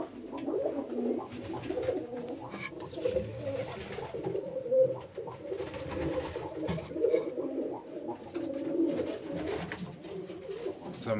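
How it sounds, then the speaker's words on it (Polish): Pigeons coo steadily in a breeding loft where crested birds sit on eggs, a dense overlapping chorus of soft, rolling calls close by with no talk. "Gołąbki takie wesolutkie."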